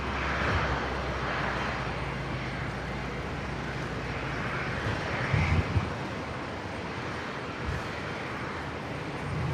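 Embraer 190 airliner landing on runway 01 right at Brisbane airport, a steady distant jet roar with broad rushing noise and a faint swell at touchdown.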